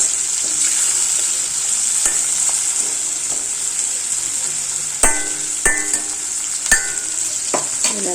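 Mutton and radish curry ingredients sauté in a pan with salt, a constant hiss of frying broken by several sharp clacks of a spoon against the pan, with no voices.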